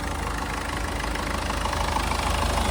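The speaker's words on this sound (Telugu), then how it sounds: "ఆల్రెడీ స్టార్టింగ్లోనే ఉంది ఇంజన్" A 2018 Ford EcoSport Titanium diesel engine idles steadily with a low, even rumble and faint rhythmic knocking, heard up close with no voices.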